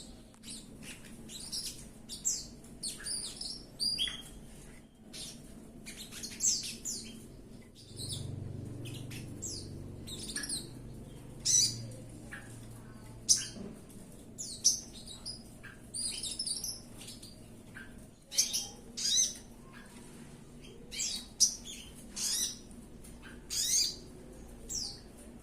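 A sogon songbird sings bright, chirping birdsong in repeated short bursts throughout, alone against a quiet low background hum.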